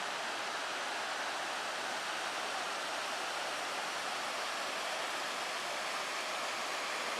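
Continuous broadband rush of clear river water flowing near waterfalls on a wooded hike, steady and even throughout with no voices.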